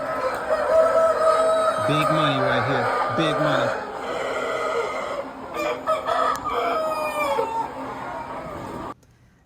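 Chickens cluck and a rooster crows nearby on a chicken farm in Ghana, with someone speaking briefly over the flock's steady clucking.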